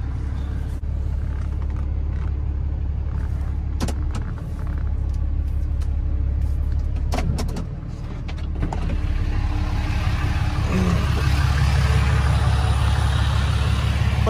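A self-loader tow truck rolls up to a broken-down Honda, its engine rumbling loud and close with a deep steady drone, a brief dip in the middle and a slight rise in revs toward the end.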